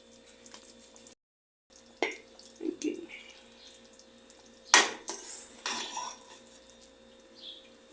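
Chicken stew with mushrooms, pollo a la jardinera, is served onto plates in a kitchen: quiet clinks and scrapes of utensils and dishes, with one sharper clatter midway and soft wet sounds between.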